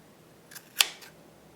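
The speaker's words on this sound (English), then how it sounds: "you can come down here and cut your fringe" A single crisp snip of scissors trimming crochet yarn fringe on a scarf, close and quiet, with a faint lighter click just before it in an otherwise hushed room.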